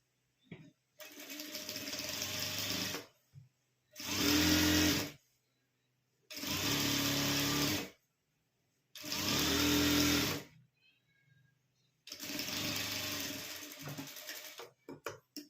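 A sewing machine stitches piping onto an old shirt in four or five steady mechanical runs of a few seconds each, separated by short silences, close and clear with no talking.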